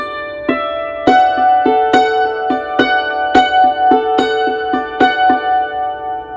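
Hammered dulcimer working through a repeated "Golden Slippers" pattern, struck notes ringing bright and close in a moderate, even rhythm with overlapping sustain, played alone without talk.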